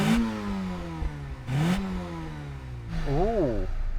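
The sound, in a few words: Volkswagen Golf GTI 16-valve engine revving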